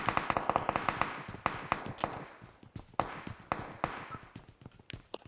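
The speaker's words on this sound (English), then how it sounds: "Gunshot! Gunshots, I'm scared." Rapid bursts of sharp gunfire in PUBG Mobile, volleys of quick cracks followed by scattered single shots, loud and close with no talking.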